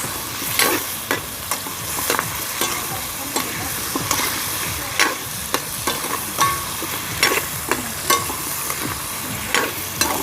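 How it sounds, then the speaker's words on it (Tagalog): Pork pochero with potatoes being stirred in a pan, a utensil scraping and clacking in steady repeated strokes over a continuous sizzle, close and fairly loud with no voices. "Hindi pwedeng tigilan sa paghalo kasi didikit yung patatas."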